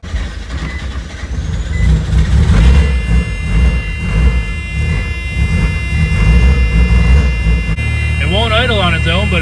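A Mazda RX7 engine that will not idle on its own runs steadily and loudly up close, with a droning hum and a brief whining tone near the end, while a voice talks over it.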